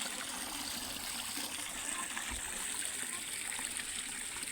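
Water runs steadily from an opened tap in a village home, a continuous close trickling rush with no speech over it.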